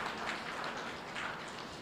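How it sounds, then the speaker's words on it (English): Seated audience at a talk on mind and memory clapping together, a soft, even rain-like patter of many hands that holds steady throughout and sounds somewhat distant. "Yes, you may clap."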